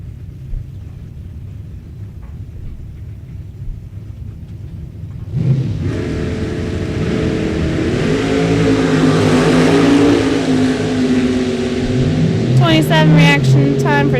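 A 68 Chevelle and a 71 Nova launch side by side down a drag strip, their engines swelling into a loud, sustained roar after a quieter idle, with rising revs near the end and a voice talking over it.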